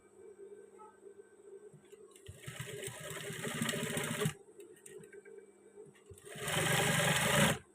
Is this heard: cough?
no